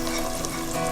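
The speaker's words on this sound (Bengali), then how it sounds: "ইলিশ মাছের যে মশলাটা ছিল সেই মশলা তেল সহ এই প্যানের মধ্যে দিয়ে দেব" Hilsa fish masala and oil go into a hot pan, giving a loud, steady sizzle and hiss of frying that holds without pause, with no voices over it.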